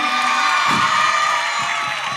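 A school audience cheers and shouts together in one loud, sustained burst, with children's voices prominent and no pauses.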